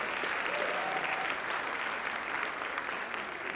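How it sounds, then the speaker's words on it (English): Steady applause from a large crowd at a Manhattan borough address, honoring the city council, a dense, even wash of clapping sustained throughout at moderate distance. "Applaud for the city council."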